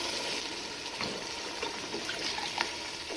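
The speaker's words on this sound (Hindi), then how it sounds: "पानी शामिल करेंगे।" Water is poured into a cooking pot for matar pulao, a steady liquid splashing and gurgling that runs close and moderately loud for about three seconds, with no talk over it.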